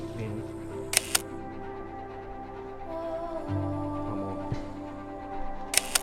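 A camera shutter snaps while taking a selfie at the end of a shoot. Two quick clicks come close together near the start and two more near the end, close and crisp, over a quiet room with a low hum.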